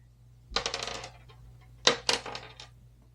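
Dice rolled onto a table in a softball tabletop game, two separate bursts of rattling clatter, each tumbling and settling over about a second, close and crisp against a quiet background.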